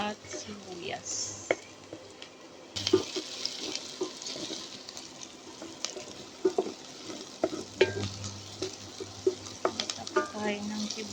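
Garlic and onion sauté in a pan for beef kaldereta, a soft sizzle broken by scattered scraping and stirring clicks, fairly quiet, with the frying growing a little busier partway through.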